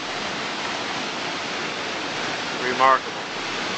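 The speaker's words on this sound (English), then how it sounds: "you can see Horseshoe Falls from the American side" Niagara Falls roars as a steady, dense wash of falling water viewed from the American side toward Horseshoe Falls, continuous and broad throughout, with a person briefly speaking near the end.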